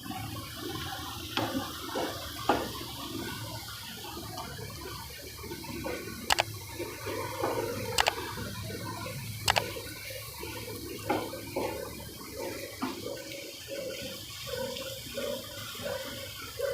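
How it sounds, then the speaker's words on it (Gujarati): Hot sugar water is poured into a vessel with a soft, faint trickle, broken by a few sharp clicks of utensils. No one speaks. "ખાંડવાળું પાણી ગરમ કરી નાખવાનું ને પછી આમાં રેડી દેવાનું"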